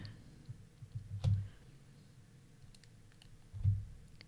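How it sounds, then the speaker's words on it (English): A computer mouse being double-clicked while working in Maya, two soft, close pairs of quick clicks about two seconds apart over a quiet room hum. "shift double click here as well"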